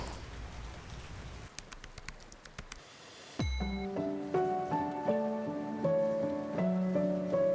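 Soothing rain patters steadily with scattered drops and a crackle, then continues softly beneath calm melodic music with sustained tones.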